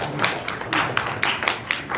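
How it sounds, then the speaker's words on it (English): Scattered hand claps at a UN side event for a Nigerian defence and police officers' wives association, a handful of people clapping in uneven bursts at moderate distance, with some voices underneath. "Let's have a round of applause for our representative."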